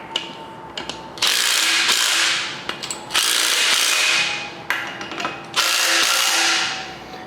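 An impact gun or ratchet drives large bolts into a cast iron Ford 302 small-block engine in three loud, close bursts of whirring and rattling, with small clicks and handling noises between them.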